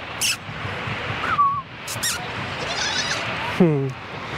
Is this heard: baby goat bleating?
yes